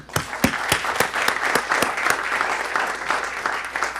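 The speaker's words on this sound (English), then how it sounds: "Well, we will all clap for them anyway." Meeting attendees at a village board session clap together in a steady, dense round of applause that holds through the whole stretch, with a few sharper individual claps standing out near the start.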